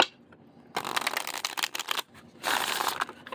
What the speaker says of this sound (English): Let's see how these shuffle.